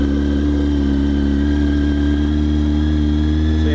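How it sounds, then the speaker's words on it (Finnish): A motorcycle engine started with capacitors runs at a steady, loud, close idle, with an even throbbing rumble and no change in pace. "Sehän lähti kondensaattorilla käyntiin."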